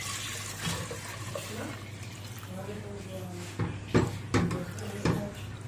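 Eight glasses of water are poured into a pot of hot and sour soup in a home kitchen, a steady splashing stream with a few clinks over a low hum.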